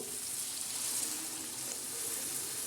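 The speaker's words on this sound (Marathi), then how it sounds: "मी याच्यामध्ये डाळ कांद्यामध्ये थोडं गरम पाणी सोडणार आहोत" Hot water pours into a pan of frying dal and onion, raising a steady, loud broadband sizzle with a watery hiss that holds evenly throughout, close by and without talk.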